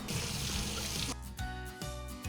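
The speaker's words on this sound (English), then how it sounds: "we're going to drain it under a big stream of cold water to cool everything down" Pasta and kale drained under a strong stream of cold water: a loud, steady rushing pour for about a second, then abrupt clatters and splashes as the stream stops and the strainer is shaken.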